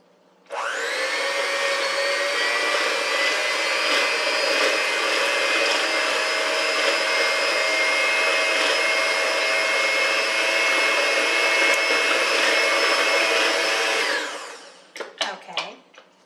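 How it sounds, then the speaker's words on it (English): An electric hand mixer blending cream, evaporated milk and egg, a loud steady whine starting abruptly and running for about thirteen seconds before stopping, followed by a few soft clinks. "we're going to use our mixer and we're going to blend this together"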